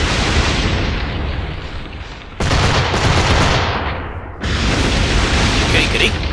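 Fire barrels launch and explode during ship combat in Assassin's Creed IV Black Flag, with loud rumbling booms and crackling blasts in two sustained bursts separated by a brief dip.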